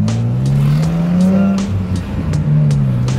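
A BMW E30 fitted with an S54 engine and a ZF five-speed gearbox is driven hard, its engine droning loudly and close with rising and falling revs, alone without talk.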